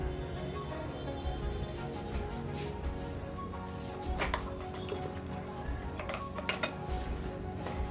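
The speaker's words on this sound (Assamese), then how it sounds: "মই কেৰাহীখনটা পাতি লওঁ কেৰাহীখন গৰম হ'ব দিছোঁ" A metal kadai is set down on a kitchen stove, giving a few clanking, clinking metallic knocks of moderate loudness over a quiet room background, with no talking.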